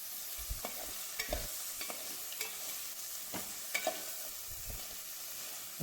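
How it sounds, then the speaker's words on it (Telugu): Cleaned crabs stir-fried in a pan for a crispy, spicy crab fry, with a steady low sizzle broken by repeated scraping and clattering strokes as a spatula mixes them through. "క్లీన్ చేసిన పీతలు యాడ్ చేసి మనం ఒకసారి కలిపేసుకోవాలండి ఫుల్గా"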